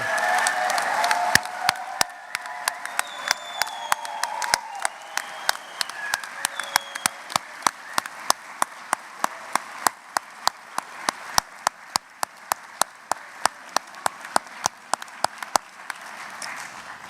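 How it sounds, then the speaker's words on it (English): Sustained audience applause in a university graduate commencement ceremony in a concert hall, dense steady clapping from a large crowd filling the room, loud and continuous with sharp individual claps standing out throughout. "let's give all the students a warm round of applause for their accomplishments and congratulations"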